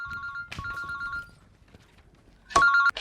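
A phone rings with a repeating electronic tone in two bursts separated by a quiet gap, fairly loud and close, with no talk over it.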